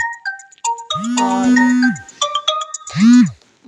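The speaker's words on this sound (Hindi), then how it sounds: "बीच में किसी का फ़ोन आने लगा था" Loud, close mobile phone ringtone plays a bright electronic melody of stepped tones, with low swooping notes mixed in, running for several seconds in a home kitchen.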